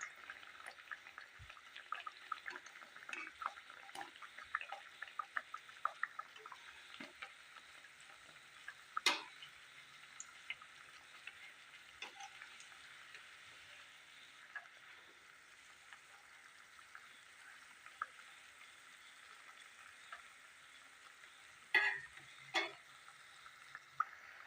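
Assamese pitha frying in oil over low to medium heat: a soft, continuous sizzle full of tiny crackles and pops, with a few sharper spits now and then, faint and without talk.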